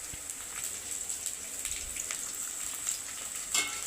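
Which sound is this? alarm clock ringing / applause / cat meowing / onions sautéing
onions sautéing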